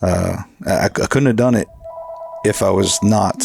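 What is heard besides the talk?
telephone ringing in the background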